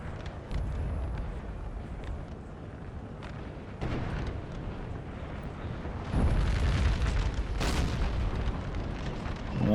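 Swedish artillery pounds away in a Napoleon Total War battle, heavy booms and rumbling blasts layered over constant battlefield din, growing louder toward the end.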